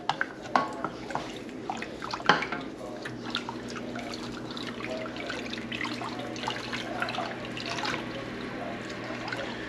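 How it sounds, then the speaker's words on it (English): Water running and dripping while a ketchup bottle is rinsed out, a soft steady trickle with a few sharper splashes and clinks, fairly quiet and close, no talking. "Want to get it all rinsed out, looking good."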